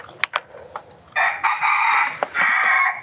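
A rooster crowing at a fighting-cock farm in Saigon: a few sharp clicks and knocks, then a long, loud, close crow rising and holding, followed by a second crow, with no talk.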